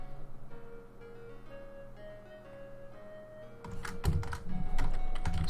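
Computer keyboard typing in a Lords of the Realm strategy game session, quiet tones first, then a late burst of quick, irregular key clicks, fairly close and unaccompanied by talk.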